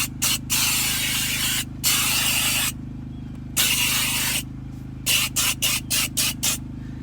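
A steam cleaner hisses in repeated bursts over a car steering wheel, long sprays giving way to short rapid puffs, all above a constant low machine hum.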